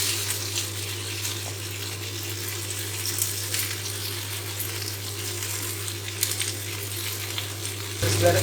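Hofun rice noodles sizzle in a wok over high heat in a home kitchen, a steady broadband frying hiss that runs evenly throughout and swells briefly near the end.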